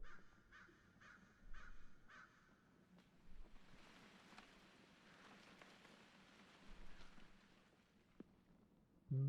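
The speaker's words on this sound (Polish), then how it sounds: "O, dzień dobry ptaszki" A few crow caws ring out in quick succession in the video game Don't Scream, then fade into a soft, steady patter like rain, with the whole scene quiet and distant.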